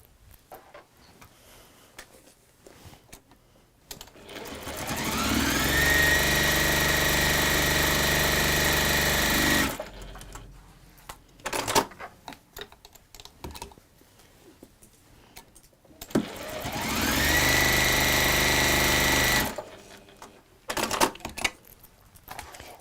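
A sewing machine stitching fabric in two long runs of rapid, steady whirring with a high motor whine, separated by quieter pauses filled with handling clicks and rustles.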